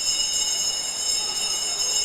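A bell rings for the final laps of a conference swimming championship race, steady high metallic ringing that holds loud and unbroken with no voices over it.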